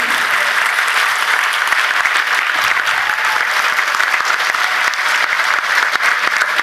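An audience applauds loudly and steadily at a live storytelling performance from Uttarakhand, a dense, even wash of clapping that holds throughout without a break.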